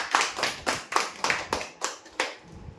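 An audience claps for a winner at a prize draw, about eight sharp, evenly spaced bursts of applause fading slightly toward the end, with no speech over them.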